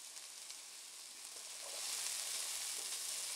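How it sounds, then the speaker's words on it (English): A spatula pushes chopped vegetables for homemade chicken noodle soup around a hot pan on medium-high heat, giving an even sizzling hiss that swells slightly partway through, with no talking. "I'll just get a spatula, and I'll keep it moving and shaking."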